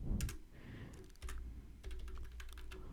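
Code being typed on a computer keyboard at a desk, short bursts of near key clicks followed by a steadier run of tapping, close and clear with no talk over it.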